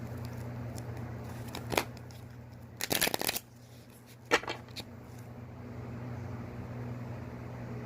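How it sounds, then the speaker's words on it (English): Tarot cards are shuffled up close: a few soft, isolated flicks, then a dense half-second riffling burst and another crisp flick over a faint steady hum, with no voices. "One more shuffle here."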